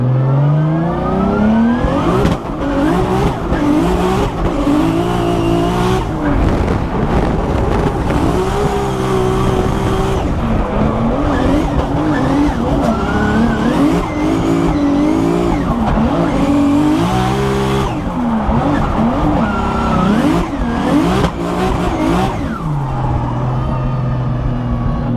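A Formula Drift competition car drifts through a run, its engine revving hard and loud with rising and falling pitch over a continuous squeal of tires, the roar held nearly unbroken for the whole stretch.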